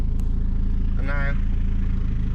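A Volvo 940 Turbo with a standard LH4.2 engine idling normally, a steady low rumble with a brief higher whine partway through.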